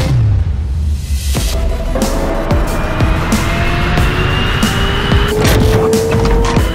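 A Hyundai N RN22E electric performance car drives hard, its electric motor whine rising in pitch alongside tire noise and road rumble, loud and close with no engine roar.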